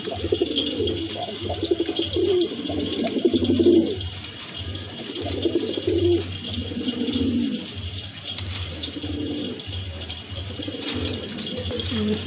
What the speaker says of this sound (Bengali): এখানে কিন্তু দুই ব্রিডের দুইটা কবুতর আছে